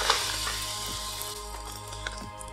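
Jaggery dropped into hot melted ghee in a pan sets off a dense, continuous sizzle with faint stirring clinks, close and steady, no talk.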